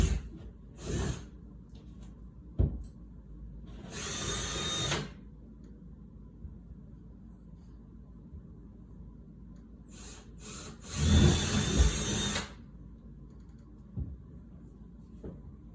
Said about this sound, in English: So I'm gonna go ahead and just start drilling these holes.